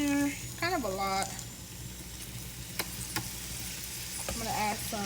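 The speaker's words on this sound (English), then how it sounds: "Now I'm gonna saute my green beans, and I'm gonna put some olive oil in there" Green beans sauté in olive oil with a soft, steady sizzle and occasional stirring clicks, while a person talks over the frying.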